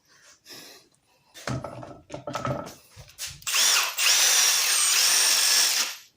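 A Dewalt drill fitted with a flex shaft right angle attachment whirs loudly and steadily for about two seconds, after a few short clicks and handling knocks.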